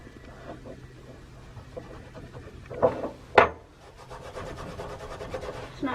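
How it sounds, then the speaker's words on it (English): An oily rag rubbed briskly over an old hand tool gives soft scuffing and wiping strokes, with a couple of louder rasping swipes in the middle before the rubbing settles back to a quiet, steady brushing. "just rubbing it over with a rag makes such a difference"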